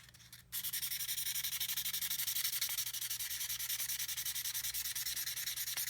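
Rust is rubbed off a Spyderco Cat pocketknife in quick, regular back-and-forth scrubbing strokes, close and evenly paced after a brief start, with no talking.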